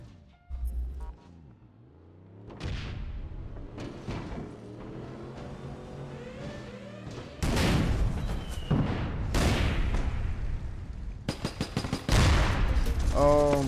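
OPGL grenade launcher fire in the game APB: Reloaded: a series of sharp booming shots and impacts, loud and close, growing denser toward the end amid other gunfire.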